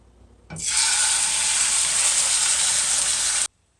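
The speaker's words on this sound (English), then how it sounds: "Now that my oil is hot, time to add the meat." A chuck roast of just under two pounds hits hot canola oil in a pan and bursts into a loud, steady sizzle that holds evenly for about three seconds, then cuts off abruptly.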